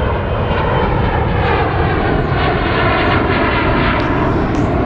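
A fixed-wing airplane at an airport in Columbus on a rainy day gives a loud, steady, broad engine roar that holds evenly for the whole stretch, close by, with no voices.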